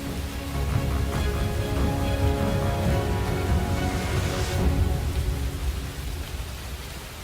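Heavy torrential rain pouring steadily during floods in southern China, a dense, loud, unbroken roar of downpour with a low rumble underneath, no voices.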